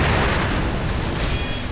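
Firecrackers going off in the game Sekiro, a dense, loud burst of crackling, booming noise filling the whole short stretch without a break.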